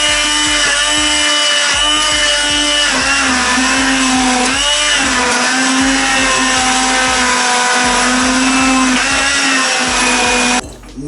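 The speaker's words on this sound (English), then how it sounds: "It's just easy for me to use a stick blender." A stick blender whirs loudly and steadily, its motor pitch wavering slightly as it churns through thick cream of broccoli soup, stopping abruptly at the end.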